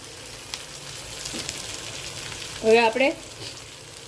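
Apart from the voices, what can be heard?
stuffed chillies frying and being tossed in a pan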